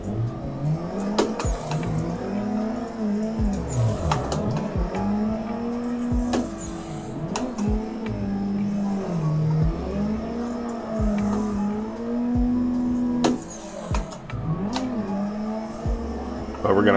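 Car engines in the Assetto Corsa drift game repeatedly rev up and drop off, with tires squealing and several cars running together, held fairly steady at a modest level under occasional talk.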